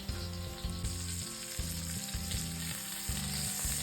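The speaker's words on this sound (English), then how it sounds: "We're going to brown that on every side" A pork loin sears in a hot pan while being browned on every side, a loud continuous sizzle and spatter close by, with a low repeating pulsing hum running beneath and no talk.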